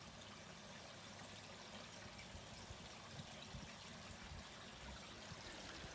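Water trickling and flowing through a homemade three-barrel koi pond filter, a continuous low, even stream with a gentle burbling texture and no voices.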